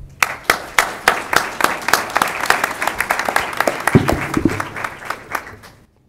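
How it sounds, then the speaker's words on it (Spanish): A university lecture audience applauds to welcome the speakers of a panel discussion on mining in Peru: dense, steady clapping from many hands that fills the room, then tapers off near the end. "Los recibimos con un cálido aplauso."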